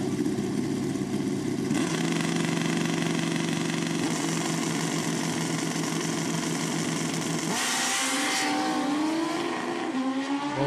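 Kawasaki racing motorcycles at a drag racing start line: loud, close engines idle and rev in a sustained drone, then one bike launches with a rising, high-revving roar near the end.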